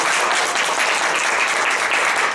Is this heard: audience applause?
yes